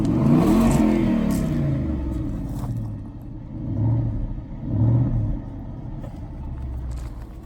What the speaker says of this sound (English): All right, Michael, rev it up a little bit.